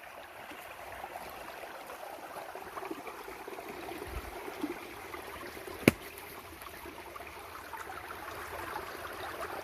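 A forest river flows steadily, a soft continuous rush and trickle of water heard from nearby but fairly quiet, with one brief sharp knock partway through.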